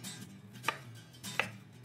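Two crisp knife strikes on a cutting board, spaced about a second apart, as garlic cloves and an onion are coarsely chopped for falafel; close and clear against a quiet kitchen background.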